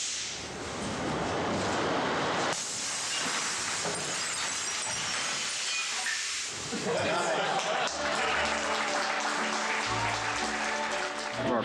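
Full-scale train crash stunt for a film set: loud, dense crashing and shattering glass with broad steam-like hiss, then a heavy rumbling impact and clattering debris continuing to the end.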